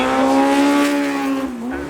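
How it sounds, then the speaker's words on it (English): A 4-litre V12 racing car at the Goodwood Festival of Speed, its engine droning loudly and steadily, rising slightly, then a brief pitch dip near the end. "Absolutely stunning 4-litre V12 engine"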